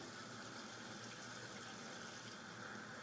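Cold water runs from a bathroom sink tap in a cabin or RV plumbing system being winterized with antifreeze, a faint, even rushing hiss that continues unbroken throughout.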